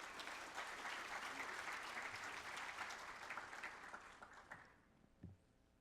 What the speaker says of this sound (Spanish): Por favor, recibamos a María con un fuerte aplauso para que nos presente el tema